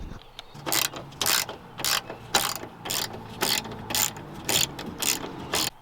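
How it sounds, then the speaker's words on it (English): A ratchet undoes the three mirror bolts on a 2007-2014 Toyota FJ Cruiser, giving about nine short, sharp clicking bursts in a steady rhythm, close and alone. "You just simply undo that clip and remove those 3 bolts."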